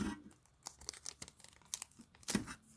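Close, quiet tearing and crinkling as a foil blind pack of toy minis is ripped open, in short irregular bursts of ripping plastic with brief pauses between, and no one speaking.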